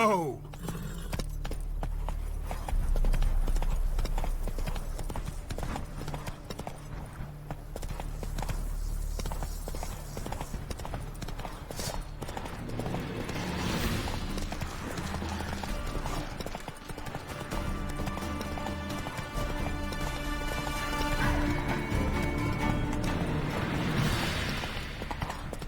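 Horse hooves clip-clopping at a steady pace in the Witcher 3 video game, under continuous game music and ambience, with a brief louder rise midway.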